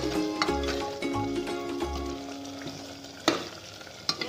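Mutton cooks for an Assamese-style biryani as it is stirred in a pan, with oily sizzling under a low hum, a few rhythmic scraping strokes and occasional sharp metallic knocks of the utensil against the pan, close and alone.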